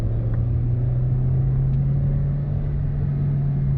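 Steady low engine rumble with a strong constant drone from a 2003 Toyota Yaris TS with a 1.5 VVT-i 105 hp engine cruising gently, even and continuous throughout, no voices.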